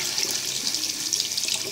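Ice cold tap water runs steadily over a Microsoft Lumia 535 phone as it is washed, a close, continuous hiss and splash with no pauses.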